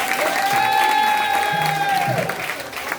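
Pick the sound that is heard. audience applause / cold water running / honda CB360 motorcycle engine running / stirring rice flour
audience applause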